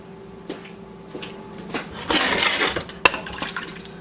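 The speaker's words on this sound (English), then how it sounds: "I'm going to go drain these a little bit and we'll get them in the pan." Home-canned beets from 2015 drained over a kitchen sink: a short burst of pouring liquid in the middle, framed by light clinks and knocks of a can, dishes and utensils, fairly close with no talk.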